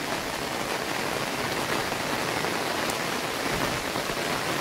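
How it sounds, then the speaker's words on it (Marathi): Heavy rain falls steadily on a village morning, a loud, uniform wash of drops pattering on surfaces without pause or voices. "भरपूर प्रमाणामध्ये पाऊस पडत आहे."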